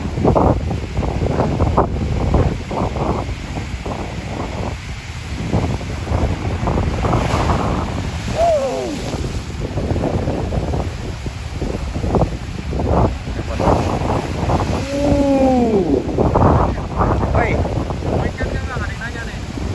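Strong wind buffeting the microphone over rolling high surf at Merak harbour on the Sunda Strait, Indonesia, with waves surging and crashing repeatedly; faint voices come through now and then.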